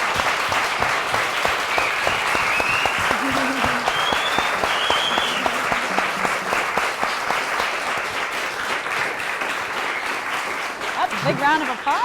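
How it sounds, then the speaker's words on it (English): A room full of people gives sustained loud applause after a Q&A with Basecamp's DHH and Jason Fried, with a thick, unbroken roar of clapping and clear whistles rising above it, including a sliding whistle near the end. "Big round of applause there"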